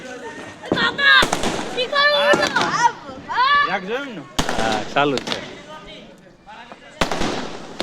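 Diwali firecrackers burst in several sharp, loud cracks spread unevenly across the moment, while children talk and shout excitedly close by between the blasts.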